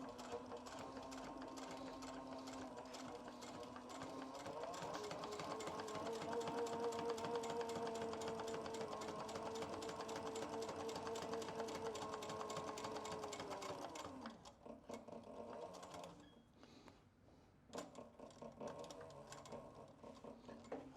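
Sewing machine stitching a seam on a leather duffel bag, a fast, steady mechanical whir and rattle running loud and continuous for about fourteen seconds before slowing into short stop-start bursts.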